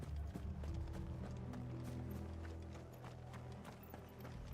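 Horses gallop in a video game, a busy run of hooves clip-clopping at a steady pace under a low rumbling score, fairly close and constant.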